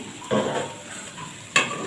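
A vegetarian Bengali curry is stir-fried in a pan, with two bursts of stirring and sizzling over a soft continuous fry, close and moderately loud.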